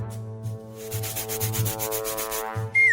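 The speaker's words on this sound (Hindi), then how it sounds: "इसके लिए हमें एक साधारण आरी चाहिए।" A plain handsaw cuts through a very large burger with steady rasping strokes over a bright, tonal backing, ending in a quick falling whistle-like sweep. No one speaks.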